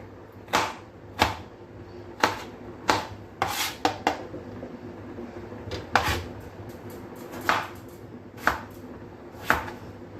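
Knife chopping vegetables such as potato on a cutting board, a series of sharp irregular chops, some quick pairs, close by with a faint background hum.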